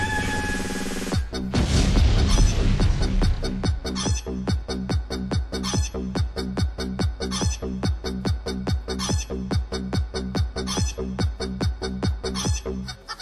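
A tune plays with rhythmic clucking and crowing chicken sounds locked to its bouncy repeating beat, loud and continuous after a brief opening burst, from a board game unboxing stream.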